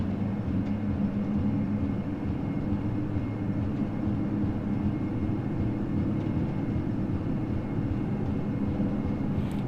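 Steady, loud broadband roar of Majestic Q400 turboprop engines at takeoff power in a flight simulator, a constant unbroken drone with low hum throughout and no voices.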